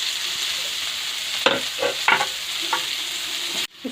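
Sliced onions frying in oil in a pan for a Rayalaseema garlic chicken, a steady sizzle broken by several stirring scrapes and clatters, close and alone.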